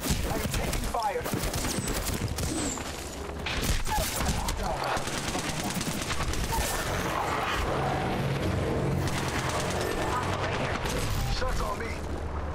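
Continuous rattling gunfire from a video game firefight, with bursts and scattered shots crackling over a busy, dense background for the whole stretch, loud and close.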